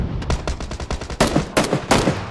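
Gunfire in the battle royale video game PUBG, a rapid string of sharp shots followed by several louder, heavier bursts, close and loud with no talk.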